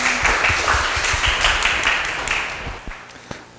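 An audience at a Gnosis Chain tech talk claps to welcome the next speaker, a burst of many hands close by that stays steady and then thins out to a few scattered claps at the end.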